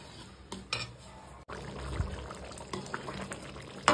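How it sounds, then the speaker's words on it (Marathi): A spoon stirs thick porridge in a pot, a quiet, continuous wet scraping and sloshing with a few soft clinks against the pot, steady and close. "मध्ये मध्ये लापशीला हलवून घ्यायचे आहे, नाहीतर ती खाली चिकटते।"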